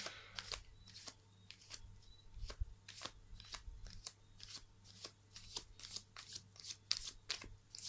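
A deck of tarot cards is riffled and shuffled close by, with a steady run of soft crisp flutters and taps repeating quietly and evenly.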